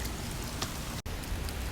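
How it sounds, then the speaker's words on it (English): Steady cartoon rain pours down in a dense, even hiss of falling drops, loud and continuous, with a brief dropout near the middle before the downpour resumes. "It's raining."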